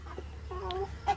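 A farmyard chicken gives a few short clucks and a brief drawn-out call, close by, over a low steady background hum.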